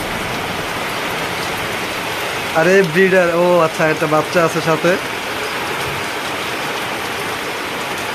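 Steady rain hisses and patters throughout; someone speaks for a couple of seconds midway, then the rain continues alone.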